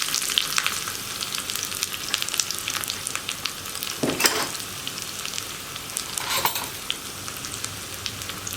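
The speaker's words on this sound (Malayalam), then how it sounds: "കടുക് പൊട്ടിക്കഴിയുമ്പോൾ നമ്മളൊരു 4 ഉള്ളി റൗണ്ടിൽ കട്ട് ചെയ്ത് വെച്ചിട്ടുണ്ട്. അതും കൂടി ആഡ് ചെയ്യാം." Sliced shallots sizzle and fry in hot oil with popped mustard seeds for a leafy spinach curry, a loud busy crackle with two bursts of stirring.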